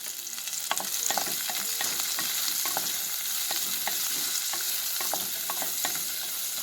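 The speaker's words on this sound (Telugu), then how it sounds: "ఉల్లిగడ్డ ఇట్లా వేయించుకోవాలండి గోల్డెన్ బ్రౌన్ వచ్చే వరకు వేయించుకోవాలి" Onions fry in a pan toward golden brown with a loud, steady sizzle and frequent close scraping stirs of a spatula against the metal pan, with no voices.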